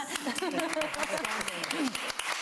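Audience clapping at a conference talk on soil and land health, scattered sharp claps running under a voice speaking over them.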